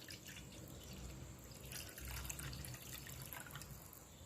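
Water being poured into a vessel while making panakam, the traditional jaggery drink, a faint steady trickle and splash heard alone at close range.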